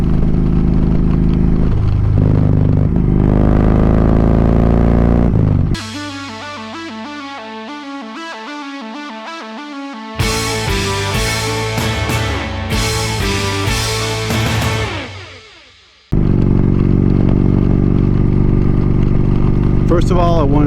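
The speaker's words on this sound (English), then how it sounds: "I'm just out tooling around on the bike." A motorcycle rides along the road with a loud, droning engine roar and rising pitch sweeps. Abrupt cuts break it into sections, with a gap where the engine sound drops away.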